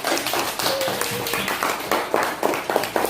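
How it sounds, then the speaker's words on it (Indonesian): Scattered hand claps in a classroom during a cooperative-learning lesson, a small group of children applauding a classmate; uneven, fairly thin clapping over a busy room background. "Tepuk tangan dulu untuk Restu."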